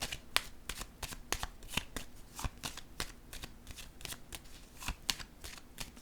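Tarot cards shuffled and laid down: a dense, steady run of crisp papery snaps and flicks, close and fairly quiet, with no voices.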